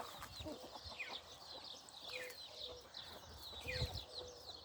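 A mother hen clucks softly among her chicks on a farm, fairly close, with bright bird chirps and a steady outdoor background.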